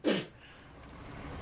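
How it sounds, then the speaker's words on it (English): A single loud, sharp sneeze from a dad, bursting out close up at the start and then trailing off into quiet background hiss, with no talking. "Dad with his mega sneeze"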